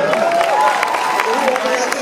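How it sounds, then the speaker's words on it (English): Audience applause and cheering for a performer at a gospel singer's comedy show, a steady wash of clapping with voices shouting and whooping over it, close and lively throughout. "Clap it up for him."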